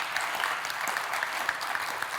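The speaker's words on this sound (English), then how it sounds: "Round of applause from the audience here." Audience applause for a panel at a conservation-themed travel and tourism session, a steady wash of clapping from many hands, moderately quiet and continuous without voices on top.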